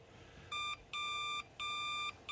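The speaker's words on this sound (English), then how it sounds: "can you get the phone?" A telephone rings in a cartoon scene, sounding in clipped electronic bursts: three short trills separated by brief gaps, clear and fairly close over quiet room tone.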